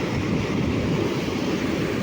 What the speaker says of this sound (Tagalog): Taas po ng alon dito guys.